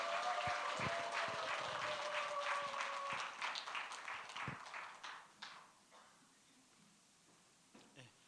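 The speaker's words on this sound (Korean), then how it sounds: "우리 이용호 장로님 나오실 때 우레와 같은 박수로 환영하겠습니다" Applause in a church hall greeting elder Lee Yong-ho as he comes forward, a crowd clapping that starts strong under a voice and a tone, then thins out and dies away to near silence.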